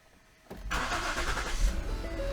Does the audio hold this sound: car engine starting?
yes